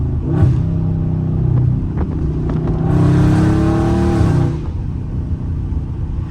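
A catless Dodge Scat Pack in track mode on a street drive, its engine rumbling deep and close, then swelling into a loud, raspy rev for about two seconds before settling back to a throaty idle-like drone.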